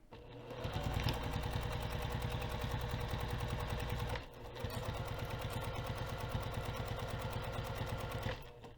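A sewing machine stitches a dart on a fabric bag. Its motor hums steadily in two long runs, with a brief stop midway, close and fairly loud with no talking.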